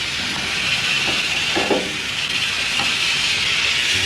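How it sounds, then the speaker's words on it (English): A steady steam leak hisses continuously around a train, a broadband rush that holds level throughout, with faint clanks and mechanical knocks underneath and no talking. "A bit of a steam leak somewhere"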